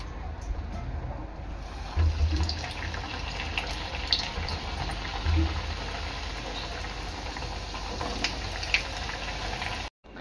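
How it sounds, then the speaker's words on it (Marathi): Pizza pockets deep-fry in hot oil with a steady, soft bubbling sizzle that runs continuously at low level, a few faint clinks on top. "अशा प्रकारे सर्व पॉकेट्स मी तळून घेणार आहे"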